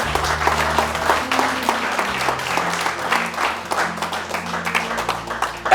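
A church congregation applauds in a steady, dense wash of clapping that continues throughout, over a low sustained musical drone.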